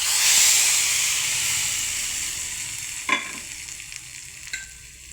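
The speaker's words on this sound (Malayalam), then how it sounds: "അവക്കാട് വറുത്തത് അതിലേക്ക് ഒഴിച്ച് കൊടുക്കാം." Hot fried tempering poured into a raw mango buttermilk curry gives a loud hissing sizzle that slowly fades, followed by a sharp splash and a few soft stirring clinks.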